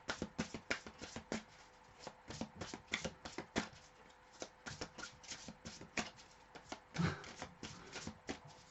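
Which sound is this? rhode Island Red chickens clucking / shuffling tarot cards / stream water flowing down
shuffling tarot cards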